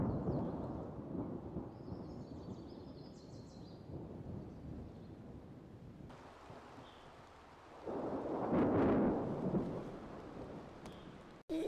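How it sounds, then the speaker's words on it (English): A severe thunderstorm with steady rain, low thunder rumbles and one louder, swelling roll of thunder partway through, heard throughout with no voices. "there's a storm brewing. Worst one we've seen in 79 years."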